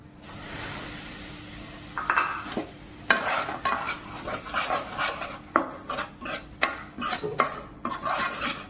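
Bombay rava (semolina) is stirred and dry-roasted in a pan with cashews, giving a steady gritty scraping with repeated sharper spatula strokes against the metal, close and fairly loud, with no talking.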